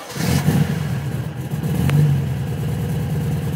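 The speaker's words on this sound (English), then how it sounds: "All right, here we go. Start up." An air-cooled VW engine with a modified oil pump cranks and catches on a cold start, settling into a loud, close, clattering idle that rises slightly in pitch and holds steady for a few seconds.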